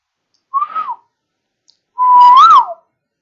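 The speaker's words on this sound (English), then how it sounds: "As soon as I whistle, it detects the whistle." Two clear whistled notes, a short one then a longer sustained tone that rises and bends at the end, close and alone with silence between.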